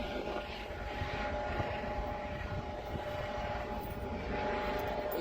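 A police helicopter circles overhead, its rotor and engine making a steady, moderately loud drone that holds throughout with no talking.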